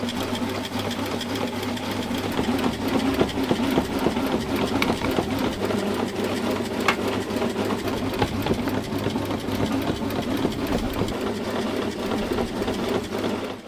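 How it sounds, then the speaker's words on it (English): A machine coats incense sticks with powder, running as a steady, busy mechanical whir and rattle with a constant low hum throughout, fairly close and with no talk. "the incense sticks are fed into a machine, which automatically coats them with the powder"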